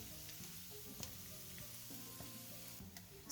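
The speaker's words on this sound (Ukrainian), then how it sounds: "Все гарненько перемішую і обсмажую до непівготовності цибулі." Purslane stems and onion fry in oil with a small piece of butter. A faint, quiet crackle and sizzle runs steadily, with occasional light stirring taps.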